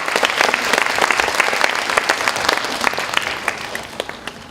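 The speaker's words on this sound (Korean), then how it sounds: "우리 열심히 신앙생활 하라고 박수 한번 부탁드리겠습니다." Congregation applauding at a Sunday worship service at a university church, a dense, steady wash of many hands clapping at full volume from start to finish with no voices over it.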